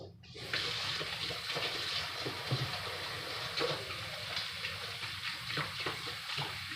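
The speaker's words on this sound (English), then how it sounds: "Now I'm going to wash my hands." Hands washed under a running kitchen tap while making baked macaroni and cheese, a steady close rush of water with soft splashing and rubbing that starts abruptly and continues throughout.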